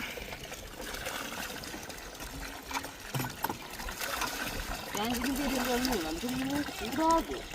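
Water runs and trickles through an open drainage area in Jaffna. The steady wash stays at a moderate level beneath people talking nearby, and some tonal sounds rise near the end.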